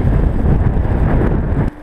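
Strong wind blows in snowy winter outdoors near a snow shelter, roaring loudly and steadily against the microphone, then dropping off abruptly just before the end.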